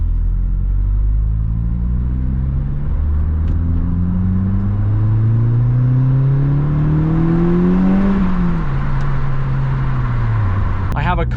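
A 300 bhp Audi S3 pulls away from a lay-by at night, its engine note loud and close from inside, rising steadily through the revs, then dropping at a gearshift and climbing again.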